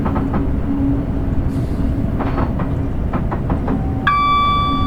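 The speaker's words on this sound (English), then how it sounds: "Sound going over the points is awesome, especially with headphones on." Train wheels clattering over points in Train Simulator Classic, on a run between London Waterloo and Portsmouth: steady loud rumble with a series of rhythmic clicks, then a tonal whine near the end, no talking.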